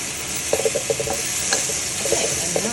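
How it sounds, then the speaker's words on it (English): Tofu and vegetable stir fry being stirred in a wok, with a steady oil sizzle and a series of close scraping, clacking utensil strokes that come in quick bursts. "Give that a stir."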